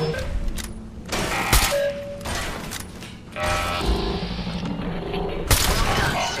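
Gunfire in the video game Fallout 4 comes as intermittent sharp bursts and rattling volleys, mixed with mechanical clanks and game effects.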